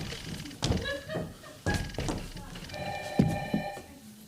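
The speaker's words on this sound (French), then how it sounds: "Téléphone!" A telephone rings on a stage set during a French comedy play, its bell tone rising over thumps, footsteps and voices.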